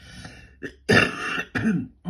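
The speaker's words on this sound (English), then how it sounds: "that's my cough from COVID" A few rough throat-clearing coughs from a person with a COVID cough, close to the microphone, a short hack followed by two heavier bursts in quick succession.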